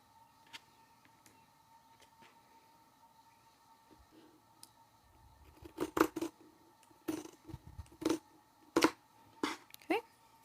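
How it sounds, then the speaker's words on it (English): Scissors snip sewing threads during a lining and sewing project, a series of sharp, close cuts in irregular clusters over a quiet room background. "Trim my threads."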